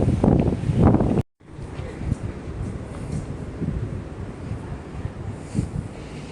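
Cold wind on a sunny day in Taiwan gusting against the microphone, a low rumbling buffet after a brief cutout, with a voice heard briefly at the start.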